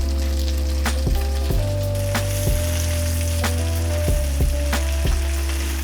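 Salmon frying in butter for a miso butter dish, a close continuous sizzle punctuated by a series of sharp crackles and pops and a few utensil knocks.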